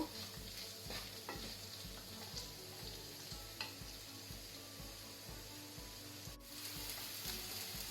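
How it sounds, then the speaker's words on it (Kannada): Onions frying in a pan with salt until light brown, a steady close sizzle with regular stirring scrapes throughout, no talking. "ಲೈಟ್ ಬ್ರೌನ್ ಆಗೋ ತನಕ ಫ್ರೈ ಮಾಡ್ಕೊಳ್ಬೇಕು"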